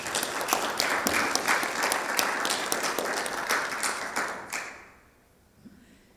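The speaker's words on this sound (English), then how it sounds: "Let's give Valerie another round of applause." A small group claps for Valerie at an impact enterprise session, moderately loud with individual claps audible, then stopping abruptly and leaving near silence.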